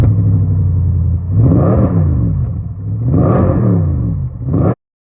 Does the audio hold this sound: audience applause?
no